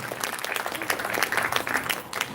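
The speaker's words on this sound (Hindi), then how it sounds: "सबसे पहले हम जोरदार तालियों से बाबा का और ब्रह्मा बाबा का, बाप और दादा का बहुत बहुत बहुत बहुत थैंक्स" Audience at a Shivratri celebration applauds, with brisk, dense clapping that holds steady at a moderate level throughout.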